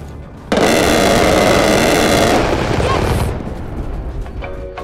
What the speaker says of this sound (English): We're gonna need a gun run right here, this location.